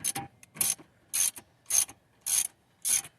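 A wrench working loose a bolt during a wheel bearing replacement on a 2015 Cadillac XTS, heard as six evenly spaced bursts of ratcheting metal clicks, close and fairly loud, with quiet pauses between strokes.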